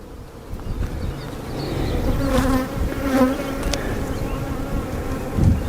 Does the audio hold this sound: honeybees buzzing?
yes